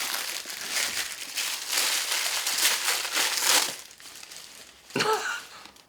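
Tissue paper crinkles and rustles continuously as a package is unwrapped during an unboxing, close and fairly loud, with a sharper crumple near the end and no talking.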